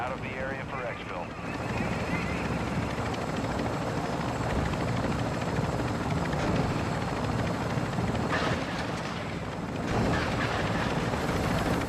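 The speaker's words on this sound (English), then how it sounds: "switch seats with me in the chopper." Helicopter in the Call of Duty MW3 DMZ video game, a steady loud rotor and engine roar filling the whole stretch without a break.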